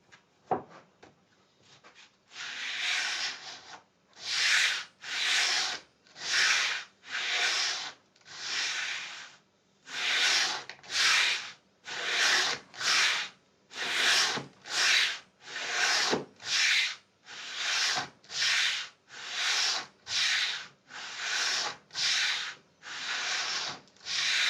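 The wooden body of a custom guitar is scuffed with sandpaper in a luthier's workshop, a long run of rhythmic rasping strokes, each a loud close hiss, evenly spaced with brief pauses between.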